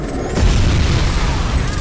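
A car explodes in a film scene with a deep, rumbling boom that swells after a brief moment and stays loud and sustained, heavy low-end roar filling the clip.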